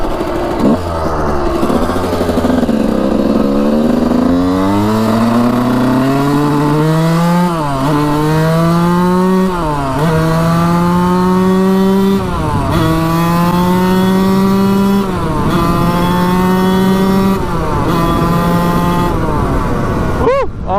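A Suzuki RM125 two-stroke dirt bike engine runs and revs hard, loud and close, its pitch climbing and falling through repeated throttle blips and rising pulls for the whole stretch, with no voices over it.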